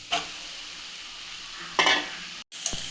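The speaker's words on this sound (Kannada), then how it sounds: "ಇದನ್ನೆಲ್ಲ ಚೆನ್ನಾಗಿ ಮಿಕ್ಸ್ ಮಾಡಿ ಒಂದು ಎರಡು ನಿಮಿಷ ಫ್ರೈ ಮಾಡಬೇಕು" Grated raw mango being stirred into onions frying with turmeric in a pan for mango chitranna, a soft steady sizzle broken by a couple of brief scraping stirs, close by with no talk.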